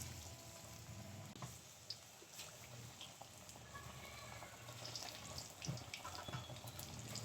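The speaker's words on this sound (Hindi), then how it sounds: "तो अब डालते हैं पकोड़े। चिकन डालते हैं।" Chicken pakoras dropped into hot oil give a steady, hissing sizzle with scattered crackles and pops, moderately close and continuous with no talk over it.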